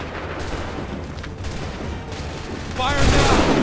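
A massed volley of muskets fires in a battle scene from Assassin's Creed III, a dense crackling roar over constant battlefield noise, with shouting voices mixed in.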